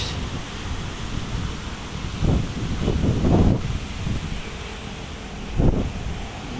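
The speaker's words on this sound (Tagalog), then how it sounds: "mahangin siya" Wind blows steadily with a low rumble along the Manila Bay baywalk, swelling in a couple of louder gusts against the microphone.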